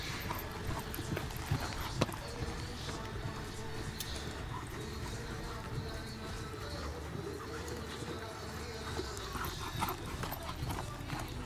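A dressage horse's hooves clip-clop on the arena footing at a para-dressage championship in Rotterdam, a faint steady rhythm under a commentator's voice, with birds cooing nearby.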